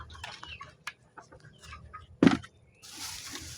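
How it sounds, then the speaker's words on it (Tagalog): Chickens cluck in short, scattered bursts with one louder squawk, close by, followed by a soft rustling hiss. "Gigutom na gid ang mga manok"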